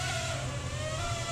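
Propellers of a Hisingy Firefly FPV drone spin up for takeoff indoors, giving a loud, steady high whine with a constant low rumble beneath it across the whole moment.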